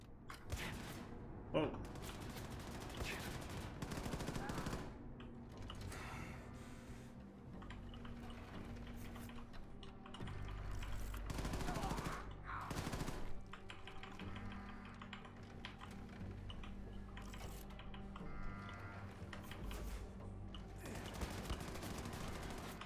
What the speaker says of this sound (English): Too much shooting going on here.